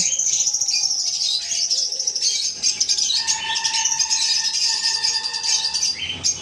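Lutino and green Fischer's lovebirds at a bird farm chirp in a dense, continuous chorus of bright, shrill tweets that carry on without a break, close and loud, with no talking.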